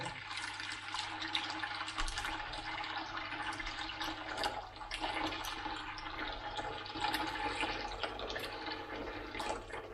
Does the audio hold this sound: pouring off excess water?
yes